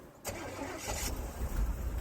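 A warm squarebody pickup truck with Vortec heads cranks and fires up quickly, the engine catching within a fraction of a second and settling into a steady rumble, heard close by.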